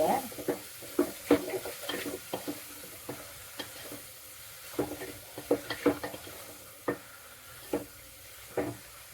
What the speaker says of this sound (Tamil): இது நல்லா வதக்கி விட்டுக்கலாம். ஒரு 2 நிமிஷம் நல்லா வதக்கிடலாம்.